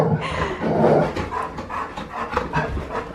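A service dog pants heavily and excitedly after a bath, with rapid breathy huffs, rubbing and scrabbling noises close by and no talk.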